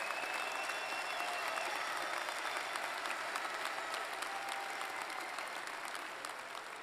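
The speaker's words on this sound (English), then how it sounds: "give them a round of applause" A large crowd at an undergraduate spring commencement ceremony gives a sustained round of applause, a broad, even roar of clapping that continues steadily and eases slightly at the close.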